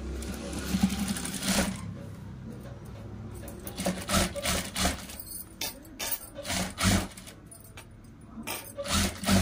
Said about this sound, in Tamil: அதனால இந்த பிளவுஸ்க்கு வந்து ஸ்டிச்சஸ் தான் போட போறேன்.